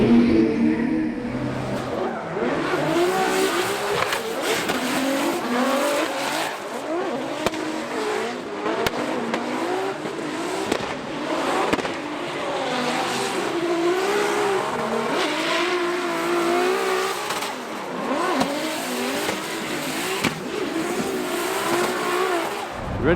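A BMW E36 drift car at a Formula Drift event roars continuously at high revs, with screeching tire squeal and skidding layered over the engine throughout, loud and close with no talk.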